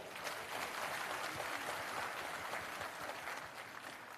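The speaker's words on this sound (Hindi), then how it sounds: "एक बार अपने लिए जोरदार ताली बजाएं।" Hall of people clapping loudly at a state-level political meeting in Patna, a dense, even roar of applause that stays steady throughout, heard from some distance.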